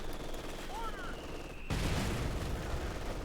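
Machine gun fire from a Company of Heroes 2 battle, a sudden dense rattling burst that starts about halfway through and holds steady, after a quieter stretch of game ambience.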